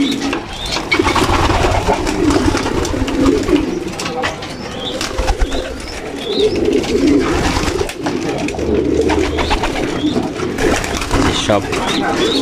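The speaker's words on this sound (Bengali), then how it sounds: "130 কিলোতে কবুতর সব চলে আসছে।" Racing pigeons coo continuously up close, a dense murmuring chorus with fluttering, while a person talks over them.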